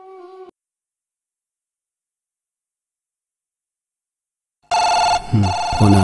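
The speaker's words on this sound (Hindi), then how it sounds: "फोन आ गया।" A brief electronic telephone ring sounds, then silence, followed by another loud, steady ringing tone with a voice briefly under it.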